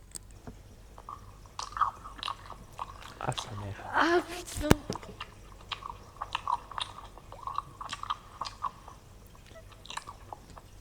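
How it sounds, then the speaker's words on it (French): Wet, open-mouthed chewing recorded up close, with irregular smacking and squishing bursts running throughout, while a voice briefly reacts partway through. "C'est quelqu'un qui mâche la bouche ouverte, c'est ça?"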